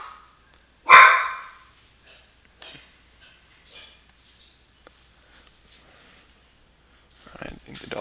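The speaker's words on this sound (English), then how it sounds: "I think the dog's done barking." A single loud, close dog bark rings out, followed by quiet room sounds with faint clicks and a few soft yips or sniffs.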